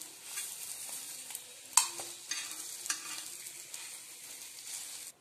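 Boiled eggs fry in a pan and are stirred, giving a steady close sizzle with a few sharp scrapes and taps of the spoon against the pan. No voices are heard.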